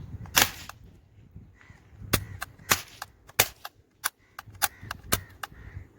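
Toy cap gun for Diwali firing a series of sharp, loud cracks, roughly a dozen irregular snaps spread over several seconds, each a crisp percussive pop with no talking.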